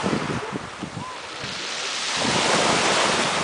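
Sea waves wash ashore at Nice on the Côte d'Azur, a broad hiss of surf that swells louder and fuller over a few seconds, mixed with wind buffeting the microphone.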